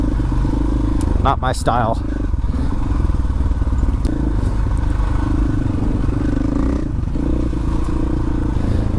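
Dual sport motorcycles, Husqvarna FE501, KTM 500EXC-F and Honda CRF450L, ride a flowy trail past rough ruts with a steady near engine drone and brief clatter; someone speaks briefly over the engine.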